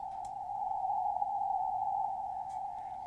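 A steady, faint VLF radio station tone drones continuously at one pitch over a low hiss of background noise.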